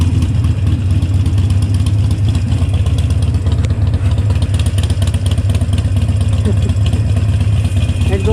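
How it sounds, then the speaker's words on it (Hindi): A Harley-Davidson 883 motorcycle rumbles steadily with a loud, low exhaust note throughout, close by, its idling engine pulsing evenly with a faint mechanical clatter. "एग्जॉस्ट ले रहा है, एग्जॉस्ट नोट।"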